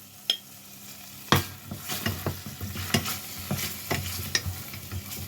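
Chopped onion and green chilli go into melted butter in a pan for a sandwich filling. Soft sizzling sits under repeated scraping stirs and spoon knocks, which come in an uneven rhythm close by.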